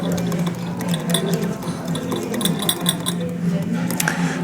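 A small whisk stirs hot chocolate inside a cup made of chocolate, giving a close, steady swishing with light clinks, while faint voices murmur in the background.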